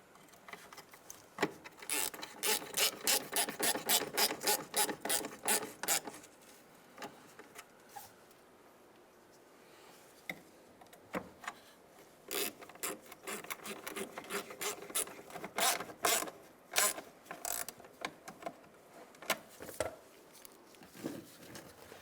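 Ratchet tightening the bolts on the metal blower motor bracket of a 1992-1996 Ford F-150 HVAC assembly, heard as bursts of rapid clicking strokes separated by brief pauses, close up with no talking.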